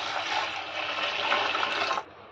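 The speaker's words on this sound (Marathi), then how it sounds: "त्याच्यामध्ये आपल्याला पाणी ओतायचं आहे." Water is poured into a bowl of coarsely mixer-ground wheat for kheer, a steady splashing gush for about two seconds that stops abruptly.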